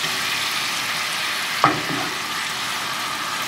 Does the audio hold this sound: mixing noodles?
yes